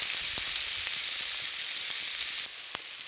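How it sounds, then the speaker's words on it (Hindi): Tomatoes fry with onions in a pan, giving a steady close hiss of sizzling oil with a few soft clicks and pops throughout, no voices. "टमाटो सॉफ्ट होला पर्यंत, सिझिला पर्यंत भल भाव में भाजी देबा"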